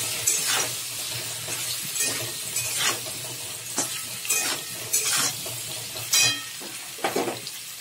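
Vegetables and drumstick pieces stir-fried in a pan, a loud close sizzle broken by repeated scraping strokes of a spatula in an irregular rhythm, with no one speaking.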